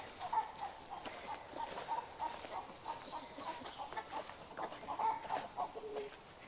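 A mixed flock of rare-breed chickens on a woodland homestead, including a white silkie, clucks in short, scattered calls that rise and fall against a noisy outdoor background, with no talking.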